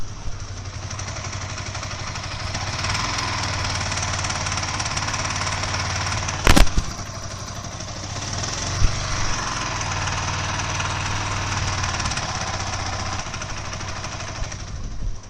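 Yamaha R15 V3 motorcycle engine running with an abnormal noise, a steady, rough mechanical drone with a low throb, sustained and close, with a couple of sharp knocks partway through.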